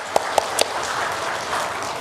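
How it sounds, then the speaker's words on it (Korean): Brief applause from a church congregation during a Sunday worship service, a few sharp claps followed by a short, soft patter of clapping. "박수 한번 할까요?"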